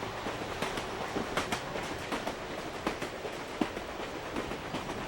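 Passenger train running from New York City along the Hudson River shoreline, heard from inside with a steady rumble and rhythmic clickety-clack of wheels over rail joints, no talking.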